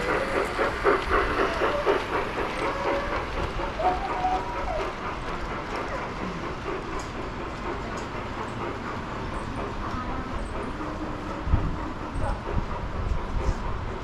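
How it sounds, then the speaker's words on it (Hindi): A miniature model railway train runs along its tracks at a miniature railway museum in Pune, giving a continuous rolling rumble with light rhythmic clicking and a soft hiss throughout. "रेलगाड़ी धुआं छोड़ते हुए तेजी से आ रही है।"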